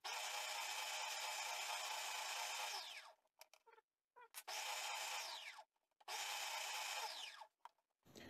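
Sanding belt on a workshop sanding machine being cleaned with a piece of dried silicone: loud, steady abrasive whirring and rubbing in three long bursts, broken by short pauses and scattered clicks.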